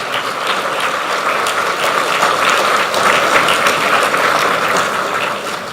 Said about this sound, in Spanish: Pero sigan aplaudiendo.